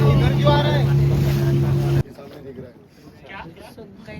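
A boat out at sea off Tarkarli beach on the Malvan coast of Sindhudurg: loud wind buffeting and a steady engine hum for the first two seconds, then a quieter rumble of water and wind, with people talking throughout.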